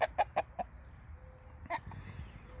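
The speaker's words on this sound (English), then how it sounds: "This is the neighbor's rooster." A neighbour's rooster is startled by a cat and gives four quick, sharp alarm squawks in a rapid series, then one more squawk after a pause, heard moderately close over quiet outdoor background.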